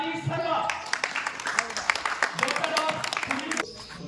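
An audience at a government school gathering claps to welcome top-scoring students. The applause is moderately loud and scattered, with voices talking over it.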